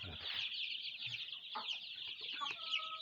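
A crowd of chicks cheeps continuously in high, busy peeps, close by, with a few soft thumps underneath.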